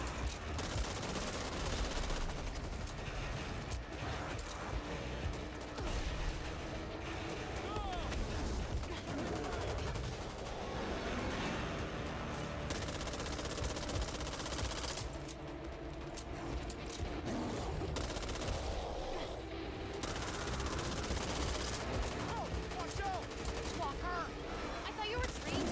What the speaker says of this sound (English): Shoot the bugs, shoot the weakness.